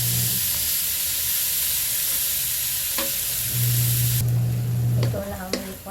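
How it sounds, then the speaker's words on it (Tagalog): Shrimp frying in butter in a pan, a steady close sizzle with stirring scrapes and a louder hiss swelling near the end, with no talking. "Ipa-fry muna natin sa butter."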